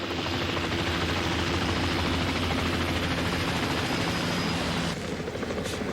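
A helicopter flies overhead with a loud, dense, continuous rotor roar that holds steady and then shifts slightly near the end, with no voices over it.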